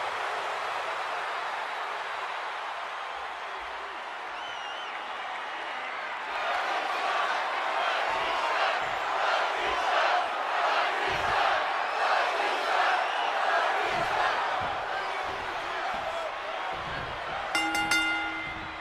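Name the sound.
crowd cheering in WWE 2K26 video game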